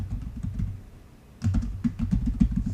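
Quick clatter of keys on a computer keyboard, close up, with a brief pause midway before the irregular tapping resumes.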